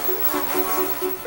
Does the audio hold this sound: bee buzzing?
yes